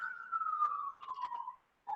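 A police siren wails on a Guatemalan street: a clear, steady tone that glides slowly downward, breaks off briefly, resumes and fades before a final short burst.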